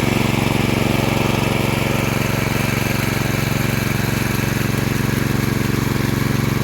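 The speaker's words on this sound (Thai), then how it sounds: "เราเลยต้องสูบน้ำใส่พร้อมนะครับ" A small engine-driven water pump runs steadily, pumping water into a rice paddy; the motor drones loud and unbroken throughout with no pauses or voices.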